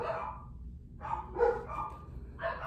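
Several pet dogs barking indoors in short bursts, a few separated yips and barks at moderate distance, fairly faint with no talk over them.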